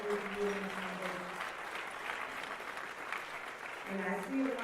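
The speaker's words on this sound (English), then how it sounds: "I see a lot of clapping hands" Conference audience applauding, a dense, sustained wash of clapping hands throughout, with a voice speaking over it at the start and end.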